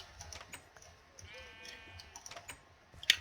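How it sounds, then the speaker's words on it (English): Sheep bleat in a blocky building video game, a short wavering cry standing out over soft keyboard clicks and faint background game sounds. "I think the sheep are ready to be sheared."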